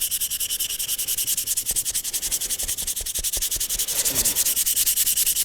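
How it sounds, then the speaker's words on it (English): Sandpaper rubbed over a handmade wooden garfish swim-bait lure in fast, even back-and-forth strokes, giving a close, rhythmic scratchy rasp with no talking. "So let's continue with sandpaper and get this thing done."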